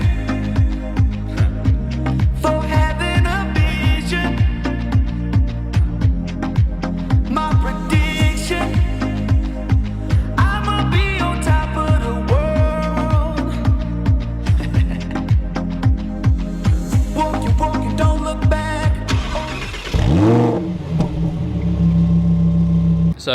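Lamborghini engine driving along the Palm in Dubai, repeated gear shifts and rising revs pulsing loudly for over twenty seconds, ending in a sharp deep revving swell.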